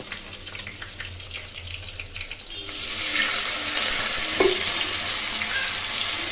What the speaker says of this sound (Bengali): জিরে একটু ভেজে নেব।